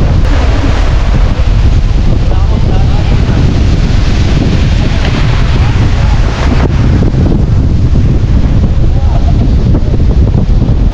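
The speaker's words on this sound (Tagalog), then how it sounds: "Mahangin oh." Strong wind at the seaside in Dingalan, Aurora, buffeting the microphone in a loud, constant roar with surf underneath, no letup across the whole stretch.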